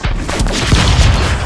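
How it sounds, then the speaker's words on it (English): Laser gun fire in the game Stick Fight, a dense burst of loud booming shots and impacts in quick succession, close and continuous through the short stretch, with no voices. "I hit you with a laser gun."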